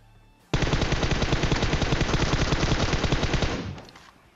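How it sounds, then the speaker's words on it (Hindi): Sustained automatic gunfire from PUBG Mobile, a rapid steady burst of loud shots lasting about three seconds before tapering off, with no voices over it. "भाई आगे की तरफ फायरिंग कर रहे हैं न जाने किस पे"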